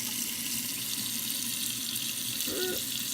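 Cold water is poured for a Nespresso Creatista Plus in a steady, soft trickle and splash that runs throughout, with a short ringing tone near the end.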